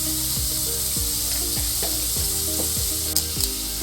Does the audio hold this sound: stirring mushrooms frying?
yes